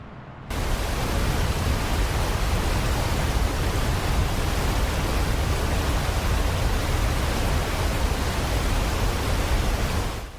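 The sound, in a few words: distant rumble of a large waterfall in southern Ontario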